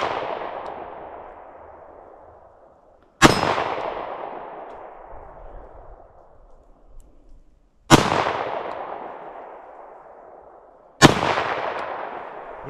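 Four sharp gunshots from a PSA 5.7 Rock pistol, each a loud crack followed by a long decaying echo, spaced unevenly a few seconds apart with no talk.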